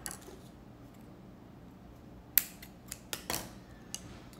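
Scissors snip a crochet yarn tail in a quiet room, giving a sharp close click followed by a few softer snips and taps over the next two seconds.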